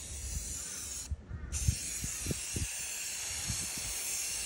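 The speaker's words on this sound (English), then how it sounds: "Because I'm going to spray it around you." Spray paint can hissing in steady sustained bursts close by as it is sprayed around a person, with a short pause and faint low knocks and handling noises underneath.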